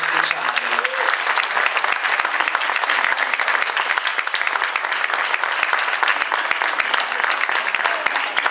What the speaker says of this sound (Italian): voglio solo dedicargli un grande applauso